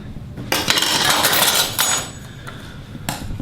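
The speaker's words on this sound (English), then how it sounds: "Let's grab all of our knives real fast here" Metal knives and scissors being picked up in a kitchen, a few sharp clinks and clatters of blades against each other and the counter, close and fairly loud, with no talking.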